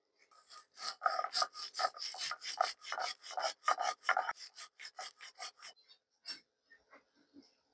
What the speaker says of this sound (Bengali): কাঁচামরিচ 2টা, 1 চামচ পরিমাণে লাল সরিষা এবং 1 চামচ পরিমাণে সাদা সরিষা ও সামান্য একটু নুন, এগুলো আমি বেটে নেব